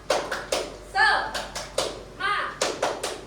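A group claps the tepuk semangat rhythm, sharp hand claps in a patterned sequence with a few quick bursts and pauses, and voices chant between the claps.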